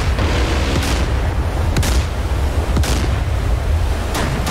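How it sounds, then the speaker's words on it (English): Bushmaster cannon firing at boats in a naval battle video game, several sharp booms spaced about a second apart over a loud, constant engine-like rumble, no talk. "Bushmaster firing."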